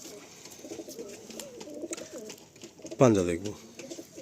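Pigeon coos briefly from close by, a short harmonic call rising over soft, continuous talk in Bengali about a show pigeon being handled for sale.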